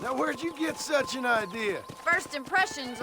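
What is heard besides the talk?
No everyday noise stands out behind the speech.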